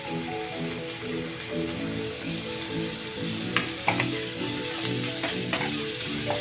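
Onions frying with ginger garlic paste and curry leaves for cauliflower kurma sizzle steadily in a pan, with occasional stirring clinks and scrapes, fairly quiet and with no talk.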